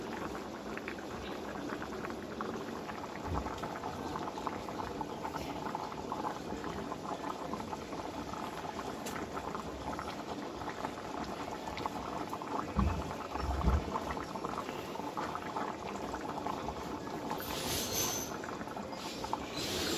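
Catla fish curry with green banana simmering in a pan after milk is poured in, a steady close bubbling and popping boil that runs continuously without talk.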